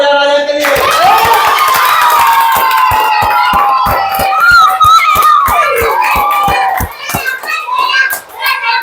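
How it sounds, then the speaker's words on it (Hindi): A group of children clapping for a boy playing a king in a school play, giving fast, steady, loud applause with excited voices and shouts over it. The clapping thins out near the end. "चलो सब ताली बजाओ राजा के लिए।"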